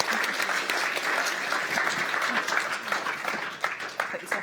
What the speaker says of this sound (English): So a big round of applause to all our panellists.